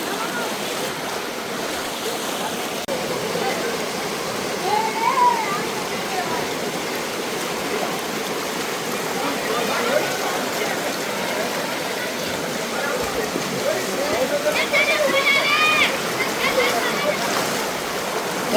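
Floodwater in the Malan river at Mahuva rushes in a loud, continuous roar, with faint voices and a few brief higher sounds over the flow.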